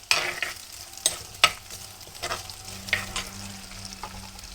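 Garlic, ginger and green chillies frying in hot oil while being stirred, a light sizzle punctuated by several sharp spoon-on-pan scrapes and clinks.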